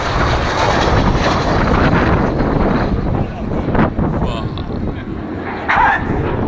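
A Red Arrows display jet flies overhead at the Farnborough Airshow, its broad engine roar loud and steady throughout with wind buffeting the microphone and brief spectator voices nearby.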